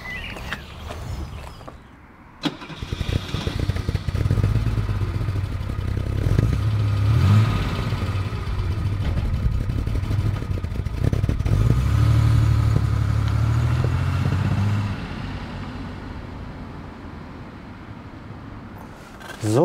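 A 1966 Mercedes-Benz W108 250S starts up with a sharp crank, then its engine settles into a steady, fairly close hum as the car pulls away and keeps driving, fading somewhat near the end.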